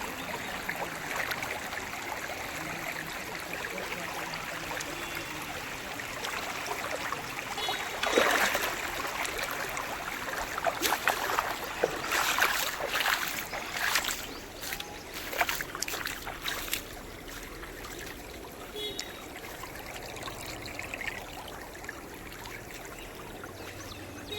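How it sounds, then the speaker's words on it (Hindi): Water runs steadily through a village stream where fish are being caught in Hojai, Assam, a soft continuous rush with brief splashy bursts in the middle and no talk. "इस पीछे पानी जा रहा है।"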